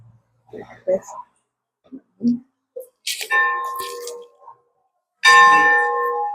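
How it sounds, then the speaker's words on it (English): An old schoolhouse bell rung twice, each strike a bright ringing tone with sustained overtones that linger for about two seconds, preceded by a few faint taps and brief indistinct voices. "We just rang the bell, and you had mentioned this was the bell to the schoolhouse"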